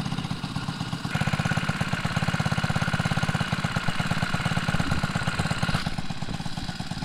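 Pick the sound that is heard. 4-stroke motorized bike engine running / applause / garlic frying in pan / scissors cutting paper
4-stroke motorized bike engine running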